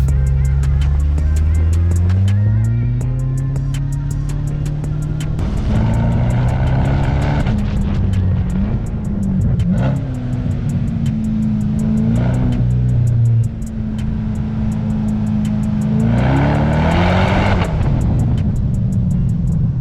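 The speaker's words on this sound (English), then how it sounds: "You just can't beat that V8 burble at low revs when you pull off." A deep, throaty Corvette V8 engine burbles at low revs, rising in pitch as it pulls away, loud and close with no voices.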